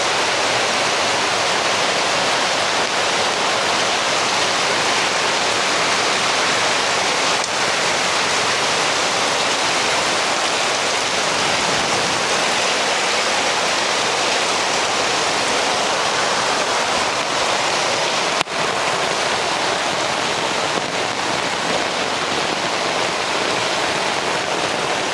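A heavy downpour roars loud and unbroken from start to finish, a dense wash of pouring rain with no talking.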